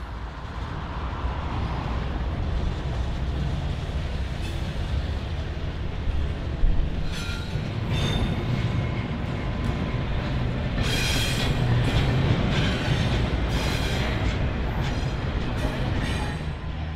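A BNSF train rolls along the busy Chicago triple-track racetrack line on track 2 near Cicero Yard, giving a steady, heavy low rumble with scattered metallic squeals and clanks over about seventeen seconds.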